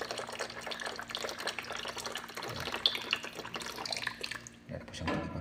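Water pours into the tank of a new water dispenser, a close, continuous splashing trickle that shifts slightly in tone as it flows.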